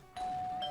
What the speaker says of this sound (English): If you want to get in, you better ring the doorbell.